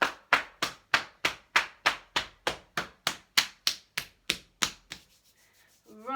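Hands tap vigorously on the outer legs during Qi Gong tapping, a fast, even run of about twenty close, crisp slaps that stops near the end, followed by a brief quiet stretch.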